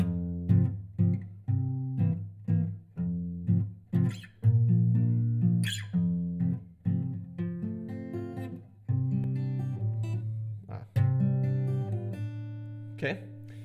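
Acoustic guitar playing a simple chord progression in full, steady plucked and strummed notes with a clear rhythmic pulse, close and moderately loud, alone without talk.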